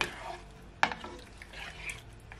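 A spoon stirring Jamaican brown stew chicken feet in a pot, a faint, quiet scrape and one brief clink of utensil against metal over a soft simmering hiss.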